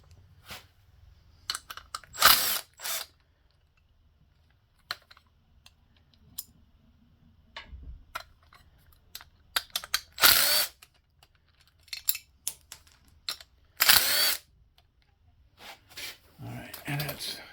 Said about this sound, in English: So let's pull those bolts off and put the new wheel back on.